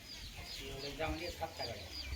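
A hen clucking softly nearby with short repeated clucks, faint and mixed with low background voices.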